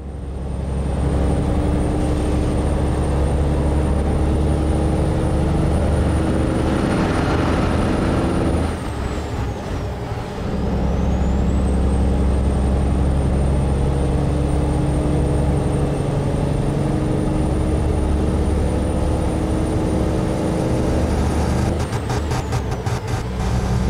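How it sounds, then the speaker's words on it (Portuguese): A heavy truck in American Truck Simulator roars loudly and continuously, with a deep engine drone, a hiss of air brakes midway, then the engine building back up, all without talk. "Vamos escutar o ronco do marvadão"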